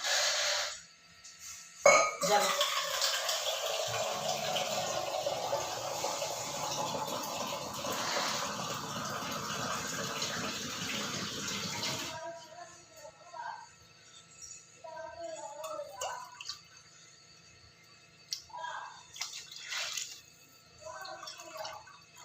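Water gushes steadily into a cooking pot for about ten seconds as about 2.25 cups are poured, a broad rushing pour, then stops, leaving faint clinks and small kitchen noises.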